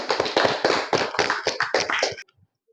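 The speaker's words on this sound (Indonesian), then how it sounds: "Oke, kita kasih aplaus ya." A classroom group applauding, brief irregular clapping from several hands that fairly fills the first two seconds and then stops abruptly into silence.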